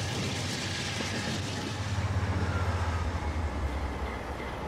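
A hopper freight train running in Transport Fever 2, heard as a steady, loud rumble with a rhythmic clickety-clack of wheels in the middle, and no voices.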